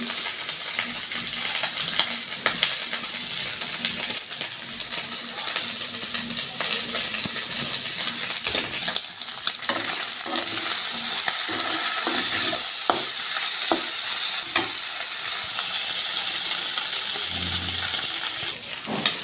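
Cumin seeds, dried chili and bay leaf crackle in hot oil in a wok, a loud, steady sizzle broken by stirring scrapes and a few knocks, with no one speaking.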